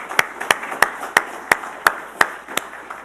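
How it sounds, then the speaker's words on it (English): Claps ring out at an Army sustainment conference ceremony, coming as a steady, evenly spaced series of about nine sharp hits over a soft room hum rather than a dense wave of applause. "Please join me in another applause for Joe Wagner."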